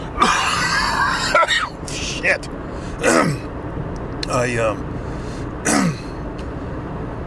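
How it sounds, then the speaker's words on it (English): Several harsh coughing bursts spaced a second or so apart, close and loud, with a voice muttering briefly between them. "Hold on, I got a cough."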